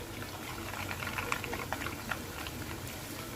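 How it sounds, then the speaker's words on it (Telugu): Bread mini donuts frying in hot oil over a medium flame, a steady soft bubbling sizzle with scattered small pops and crackles, close and continuous, no voices. "మీడియం ఫ్లేమ్లో మాత్రమే వేపుకోవాలి."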